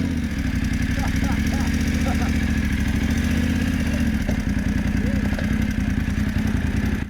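A motorcycle with a sidecar, ridden on a camping trip in high country, runs with a loud, steady, close engine drone and faint rattling clatter throughout; voices seem buried under the engine.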